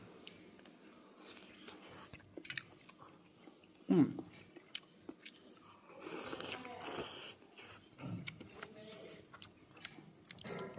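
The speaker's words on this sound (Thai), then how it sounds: "อาจจะเคี้ยวเสียงดังนิดนึงนะ" Someone chews a hotel breakfast with bacon in China, with soft wet mouth noises and scattered crunchy bites heard very close but quietly, along with faint breathing.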